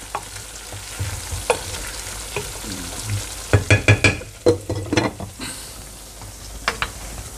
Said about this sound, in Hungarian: Nagyon szépen rotyog, nem teszek rá vizet.